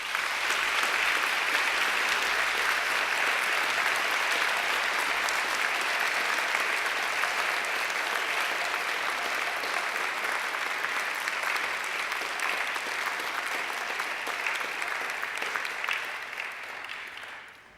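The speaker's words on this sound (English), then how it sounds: "And now I invite you to give them a mighty round of applause." Graduates giving a mighty round of applause at a graduation ceremony, a thick, steady roar of clapping from a large crowd that holds for nearly eighteen seconds before tapering off.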